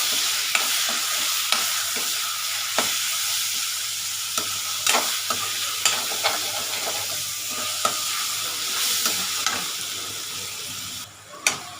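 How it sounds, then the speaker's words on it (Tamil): Green chillies and cut tomatoes sauté in a pan for a Tamil gravy curry: a steady, close sizzle and hiss with repeated scraping stirs of a spoon against the pan, no voices. "ஒரு ரெண்டு தக்காளி கட் பண்ணி போட்டுக்கோங்க தக்காளியும் நல்லா வதங்கணும்"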